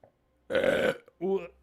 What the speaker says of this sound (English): Burp 4.